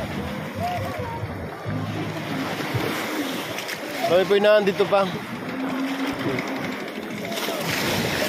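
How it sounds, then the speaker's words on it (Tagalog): Strong waves surge and splash at a windy Lobo beach in the early evening, a constant roaring wash with a louder splash midway, while people talk over it. "malakas tuloy pong ang alon, mahangin."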